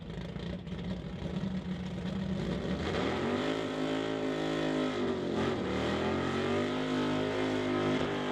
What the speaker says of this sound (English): we hear cars getting fired up and getting set to come under the bridge